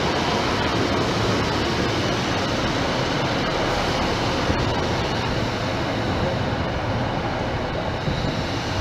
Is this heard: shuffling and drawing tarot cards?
no